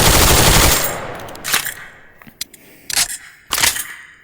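Full-auto gunfire in the Tactical Assault VR video game: a loud sustained burst at first, then several shorter separate bursts and single shots with quiet gaps between, with no voices.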